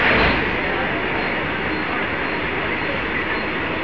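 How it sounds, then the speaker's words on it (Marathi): Twin WAG-9 electric locomotives hauling a freight rake of wagons, a steady loud rumble of wheels on track with a broad wash of rolling noise, starting slightly louder and then holding even. "Twins Bilaspur Brothers Wag 9 leading Western Central Railway BSNL wagons."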